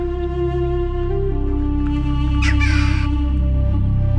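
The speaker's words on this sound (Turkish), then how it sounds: "Merhaba karga." A crow caws at the Ani ruins in Kars, a short harsh call rising briefly over a steady loud low hum, likely wind or vehicle noise, with no speech.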